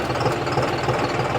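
A John Deere diesel tractor engine running in first gear, giving a steady, close, rough chugging drone with a knocking rhythm and no voices over it.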